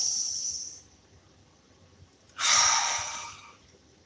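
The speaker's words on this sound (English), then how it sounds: "Take a few deep breaths." Slow breaths drawn and let out alone in a quiet room during a grounding exercise, an airy exhale at the start and a fuller inhale-exhale later, close and soft.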